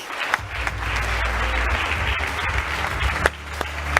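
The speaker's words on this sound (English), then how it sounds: "Well, that deserves a round of applause, don't you think?" An audience applauds at the Alpine Motorsports 2024 car launch, a sustained wash of crowd clapping with a low hum of the venue beneath and a few sharper claps standing out.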